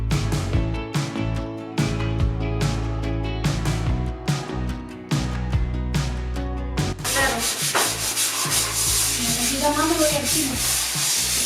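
A power sander grinds steadily against a wall in repeated strokes, then shifts to a harsher, brighter whine in the last few seconds; loud and close.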